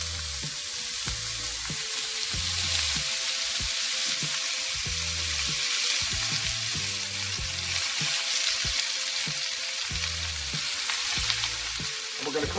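Ground beef searing in olive oil in a hot skillet, a steady loud sizzle and crackle with occasional stirring scrapes, close up and without talk.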